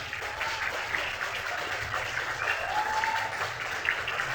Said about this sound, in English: Please give a warm round of applause to Michael Helfant.